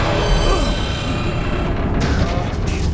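Heavy booming blast in the Guardians of the Galaxy video game, a loud, dense rumbling explosion that fills the whole moment, with sharper crashing bursts breaking in toward the end.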